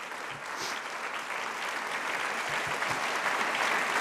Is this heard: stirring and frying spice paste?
no